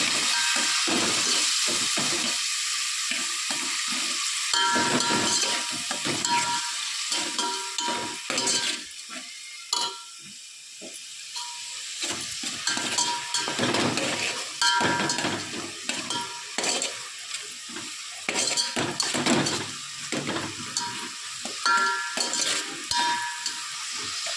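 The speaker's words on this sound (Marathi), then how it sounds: "त्यात लगेच आलं लसूण पेस्ट टाकायचं परतून घ्यायचं थोडंसं" Ginger garlic paste sautéing in a pan for chicken biryani: loud, steady sizzling and frying throughout, broken by repeated scraping and stirring strokes of a spatula against the pan, with no talk.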